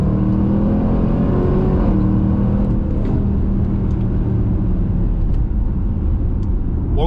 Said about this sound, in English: The crackle, the pops, and the deep growl, it honestly turns heads every time.